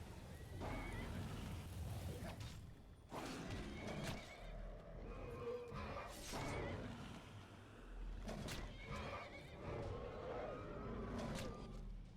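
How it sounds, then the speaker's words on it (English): Horse neighing in the Skyrim video game, with a few loud whinnies standing out over dense game noise, including hoofbeats, water and wind, and a voice talking at times. "Oh, you will not kill my horse."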